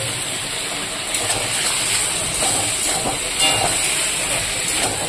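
Boiled jackfruit tipped into a pan of fried spices, giving a steady, loud sizzling hiss that lasts throughout with no talk over it.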